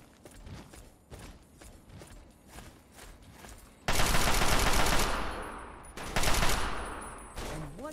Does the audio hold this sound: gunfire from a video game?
yes